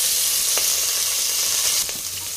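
Curry leaves and onions dropped into hot oil in a pressure cooker, a dense continuous sizzle with a couple of brief crackling pops, no voices.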